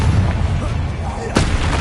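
A Confringo blasting curse goes off in the video game Hogwarts Legacy: a single sharp, loud burst near the end, rising out of a steady rumbling game backdrop.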